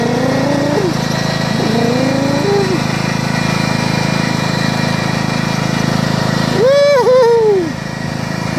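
A small lawn tractor engine runs loud and close throughout, droning steadily while towing a motorcycle, with a rising and falling whine near the end.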